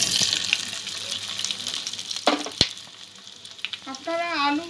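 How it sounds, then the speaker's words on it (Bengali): Boiled potato frying in mustard oil, a light, uneven sizzle with a few sharp clinks and scrapes, and a brief tonal chirp near the end, heard without talk. "আলুটা একটু ভেজে নেব।"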